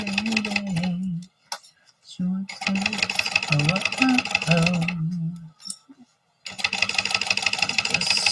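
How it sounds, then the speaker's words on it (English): A home sewing machine stitching fabric pieces together whirs in bursts with short pauses between runs, close and fairly loud, while a person talks alongside. "Just sewing these together like I do."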